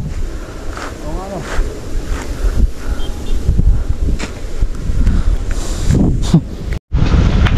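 Wind buffets the microphone in a steady, loud low roar, with faint voices and occasional clattering beneath it.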